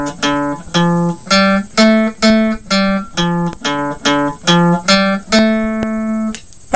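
Electric guitar plays a rock riff as a lesson example, roughly a dozen clearly picked notes in a steady rhythm ending on a longer held note, loud and close with no talking.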